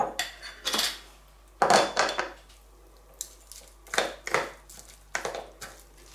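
A spoon scrapes and clinks against glass jars and a bowl while salted vegetable paste is packed into prepared jars, giving irregular close knocks and scrapes with quiet gaps between them.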